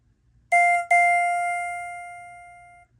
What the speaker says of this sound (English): and here is the down chime.